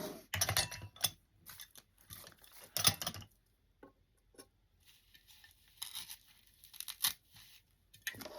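Scissors snipping centerpiece material shorter for a 4th of July table arrangement, with short crisp cutting and crinkling bursts in irregular clusters, close and fairly loud, no talking.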